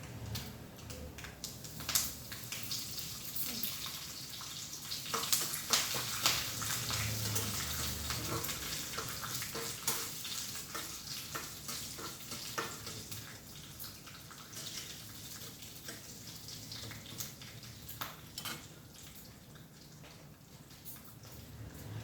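Curry leaves tossed into hot oil with the gas turned off, a dense steady hiss and crackle that swells early and then settles into a continuous close sizzle.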